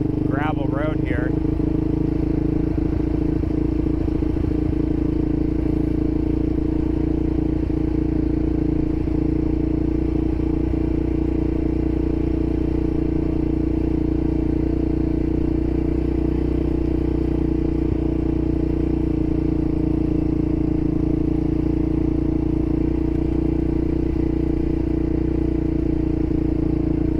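An ATV engine drones steadily in second gear while climbing a steep gravel mountain road, holding a loud, even low hum throughout with a brief rattle near the start and voices talking over it.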